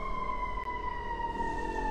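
An emergency vehicle siren wails outside, heard as a steady, faint tone sustained in the background with no voices over it.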